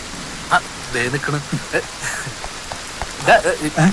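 Steady rain patters in the background while people talk over it, with a few sharper spatters near the end.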